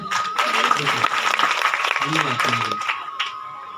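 A crowd at a religious discourse on the Bhagavad Gita claps in a dense, sustained burst that fades after about three seconds, with a voice speaking over it.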